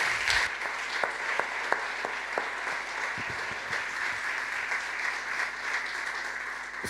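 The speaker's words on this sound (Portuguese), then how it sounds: "Uma salva de palmas para todos nós." An audience at a congress closing session claps in a sustained round of applause, dense and even, with a few sharper individual claps standing out near the start.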